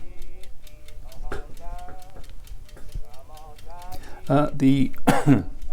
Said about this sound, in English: And the egg timer is still clicking away